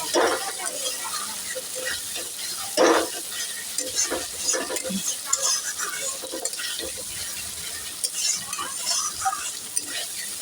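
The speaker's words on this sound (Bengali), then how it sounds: "ততক্ষণ আমি মশলাটা ভালো করে কষিয়ে দেবো" Spice paste sautéing in oil in a pan for a Bengali koi fish curry gives a steady close sizzle, broken by repeated scraping stirs and a sharper clatter near the start.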